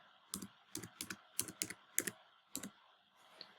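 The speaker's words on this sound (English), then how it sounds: "just type the password" A password is typed on a computer keyboard in about nine crisp, close key clicks. They come in a quick, uneven rhythm and are followed by a short pause and one last fainter tap.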